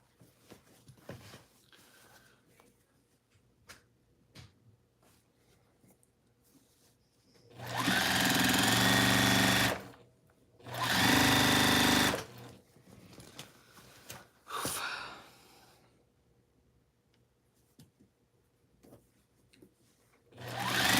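A sewing machine stitches a seam on a PMQ 'Carnival' build in two long, loud, steady runs, followed by a shorter burst and a final start, with quiet pauses between the runs.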